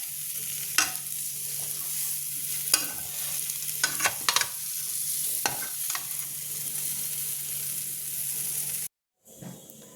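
Tandoori-spiced broccoli fries in a pan, a close, steady sizzle broken by several sharp spatula scrapes and knocks as it is stirred, cutting off abruptly near the end.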